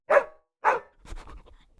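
A dog gives two sharp, close barks about half a second apart, followed by quieter panting and shuffling sounds.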